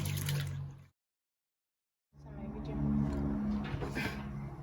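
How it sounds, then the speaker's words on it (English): Ofada rice rinsed with water in a home kitchen, a steady close swish and trickle of liquid that stops for about a second, then resumes fuller and louder to the end. "I'm just giving it some quick rinse first of all before I pour it in"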